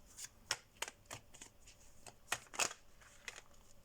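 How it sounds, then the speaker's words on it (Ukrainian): Tarot cards dropping from a deck: a series of light, papery slaps and flutters at irregular intervals, close by and fairly quiet, with no one talking. "Друзі, самі випадають карти."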